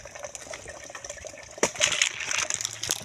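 Water from a large young coconut gushes and splashes out after it is cut open outdoors, a steady pour that gets louder and more splashy halfway through.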